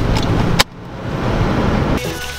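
An old, somewhat rusty pickup truck under $500 drives along a road, its engine and road rumble steady and close, with a brief sharp click partway through and a slight rise in noise near the end.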